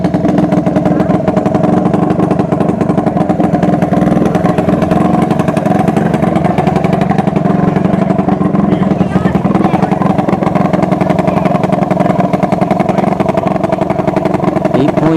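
A Fox body Mustang with a front mount intercooler idles at a drag strip during test and tune, a steady, loud engine rumble running unbroken throughout with faint crowd noise and talk mixed in.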